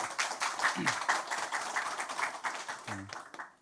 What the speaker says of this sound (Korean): 함께 이 자리를 박수로 시작하도록 하겠습니다